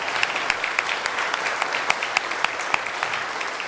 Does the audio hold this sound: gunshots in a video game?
no